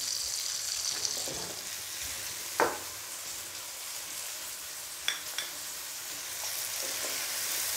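Petai frying in a pan with salt, sugar and stock stirred in, a soft steady sizzle broken by a few sharp utensil scrapes and taps, close but fairly quiet.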